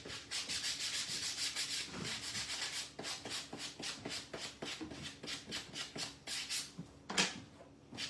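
Painted wood being sanded by hand with 220 grit sandpaper on a decoupage craft piece, a steady run of rhythmic back-and-forth rubbing strokes, close and fairly loud, with no talking.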